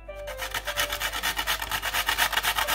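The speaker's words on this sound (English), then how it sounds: "Then we're gonna add our nutmeg." Whole nutmeg rasped against a metal grater for Guinness punch, a steady run of about a dozen rhythmic scraping strokes, close and clear with no talking.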